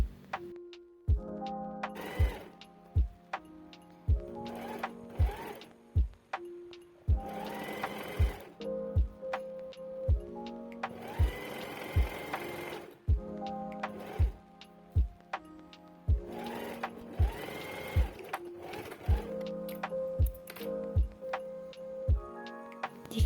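Sewing machine stitching a twice-folded 40 cm hem on a chair cushion cover, in repeated short whirring runs of stitching, each followed by sharp mechanical ticks and clicks between passes, close and clear.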